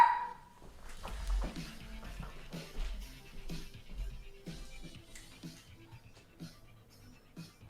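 A dog barks in sharp bursts at a delivery, with panting and small yips between the barks, close by and loud, over a faint room background.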